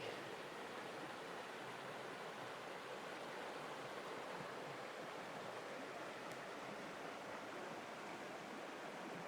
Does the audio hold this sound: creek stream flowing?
yes